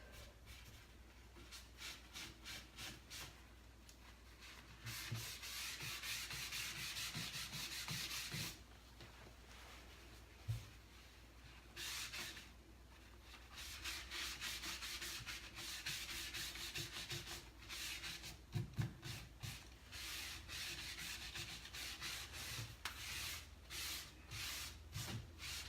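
Dixie Belle black wax is rubbed off a cobalt blue painted wooden chest with quick, rhythmic scrubbing strokes, close and continuous, pausing briefly now and then before resuming.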